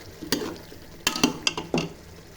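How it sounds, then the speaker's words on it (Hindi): Goat liver masala with dried fenugreek stir-fried in a pan, a steady low sizzle broken by several sharp scraping strokes of the spoon against the metal, close and fairly quiet with no talking. "और फिर अब इसको अच्छे से हमने भून लेना है मज़ीद।"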